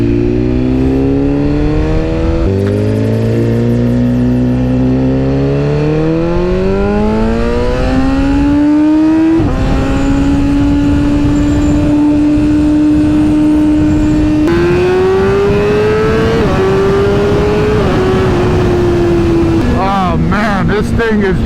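An S1K motorcycle ridden on a cold day, its engine close and loud as it revs up through several gear changes. Steady wind roar runs underneath throughout.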